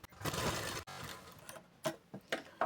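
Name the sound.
sewing machine top-stitching a blouse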